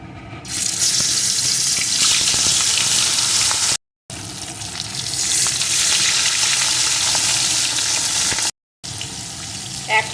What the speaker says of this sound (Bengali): এখন রুই মাছের পিসগুলো একে একে এই তেলের ভিতরে দিয়ে দেবো